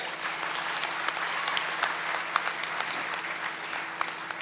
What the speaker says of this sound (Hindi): जोर से तालियां बजाएं।